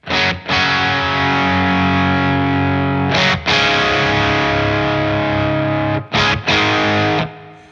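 Heavily overdriven electric guitar chords through a Friedman Small Box pedal, emulating a British plexi-style amp, ring out loud and sustained, with short breaks between three long held strums.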